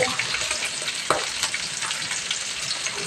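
Chopped green chillies frying in a pan while being stirred: loud, close sizzling crackle broken by repeated scraping and clacking strokes of the spoon, with no speech.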